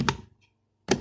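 Computer keyboard typing while writing Android Studio code, two short bursts of clattering keystrokes at the start and end separated by near silence, close and fairly loud.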